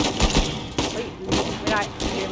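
Rapid bursts of gunfire from Uncharted 4: Legacy of Thieves Collection crackle in several clustered volleys, loud and close, with a voice talking over parts of the shooting.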